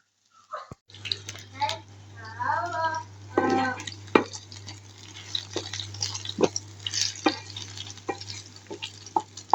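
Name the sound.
stir-frying tomato and green onion in a pan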